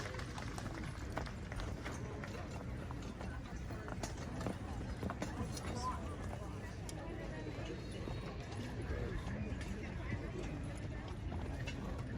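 Horses' hooves clip-clopping at a county horse pull in Fremont, a busy run of steady hoof beats on the ground with a crowd murmuring and voices talking over it throughout.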